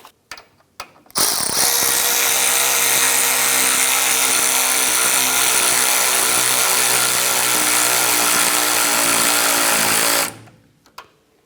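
Nut being snugged onto a lower control arm stud on a 1994-2004 Chevrolet S10, driven by a powered ratchet or impact tool in one continuous loud mechanical whir lasting about nine seconds, with brief clicks before it starts.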